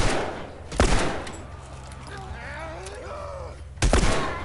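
Two loud, sharp gunshots ring out about three seconds apart in The Last of Us, with a low, quiet ambience and a faint tonal rustle between them.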